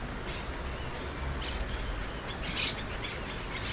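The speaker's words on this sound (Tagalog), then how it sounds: "Daming ibon." Many birds call outdoors during a leisurely outing, with scattered high chirps and squawks sitting faintly above a steady, loud wash of background noise.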